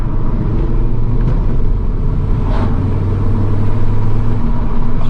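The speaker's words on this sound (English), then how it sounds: "Oh, that turbo noise." Steady, loud turbocharged engine drone from inside a moving 2022 Audi RS3 (400 bhp), low rumble with a faint whooshing turbo rise now and then; no talking.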